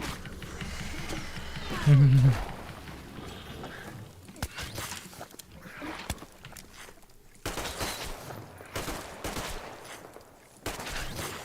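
Gunfire in the video game Metro Exodus: a loud cluster of shots around the second mark, then scattered bursts and impacts amid game ambience and footsteps-like noise, with a voice talking over parts of it.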